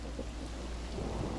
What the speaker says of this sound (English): The ground grows quickly wet and muddy under the relentless rain.